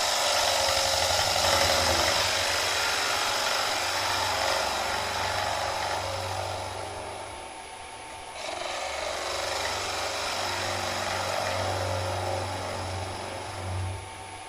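A wood lathe spins an ogee bowl as a side bevel gouge cuts it, producing a continuous close rasping, scraping hiss with a low motor hum underneath, easing briefly midway.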